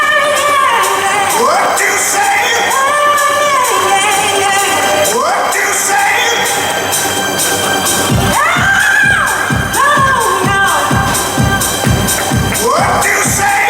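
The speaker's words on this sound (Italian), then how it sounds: "Facciamo un bel applauso per tutte le 30 ragazze" A crowd at a village food festival beauty pageant cheers loudly and continuously, with whoops and shouts over dense clapping that grows into sharper rhythmic claps partway through.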